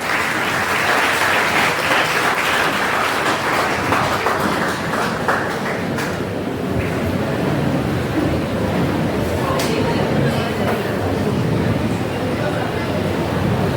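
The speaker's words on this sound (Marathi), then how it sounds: "टाळ्यांचा गजर नक्कीच झाला पाहिजे" A hall audience at a memorial lecture series honoring ceremony breaks into loud, sustained clapping that fills the room for the whole stretch, with voices mixed in.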